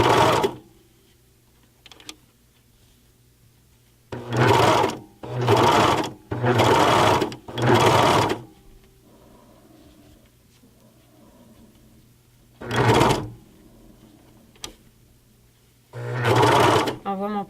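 A sewing machine stitching fabric for a jacket runs in several loud bursts of rapid mechanical whirring, each lasting a second or so, separated by quiet pauses where someone speaks softly.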